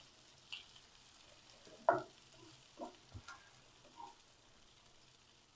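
Plantain pieces frying in oil and stirred in a pan: faint, scattered scrapes and light sizzling ticks, a few spaced stirring strokes over quiet background, no talk.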